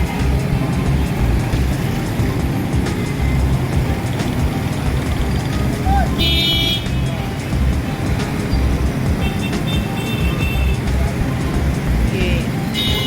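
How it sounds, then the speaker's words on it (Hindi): A congested traffic jam rumbles loud and constant with engine and road noise, a couple of short horn honks poking through, while a person talks over it. "ये ट्रैफिक जाम"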